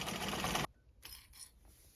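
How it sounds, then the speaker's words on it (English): A domestic sewing machine runs in a dense, fast mechanical burst while stitching through leather for a jerkin, then stops abruptly, leaving a few faint clicks and small knocks. "it is definitely a domestic machine and not industrial, meant to sew through leather"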